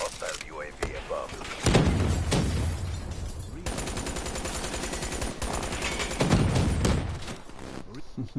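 Rapid gunfire crackles in bursts in a Call of Duty: Black Ops III multiplayer match, loud and close, with thuds between volleys and voices talking over it.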